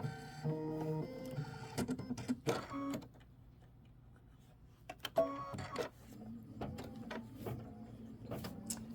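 An embroidery machine stitches a lens fill on a quilt block, giving a rapid mechanical whirring and chattering that starts and stops in bursts, with quieter pauses and a few clicks in between, no talk.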